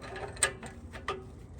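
A wrench works an O2 sensor on a 1996 Jeep XJ, giving a couple of sharp metallic clicks over a faint background hum.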